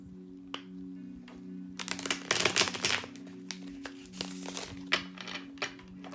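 Crisp riffling and shuffling of a tarot card deck, with several bursts of flicking and a few soft taps, close and fairly quiet.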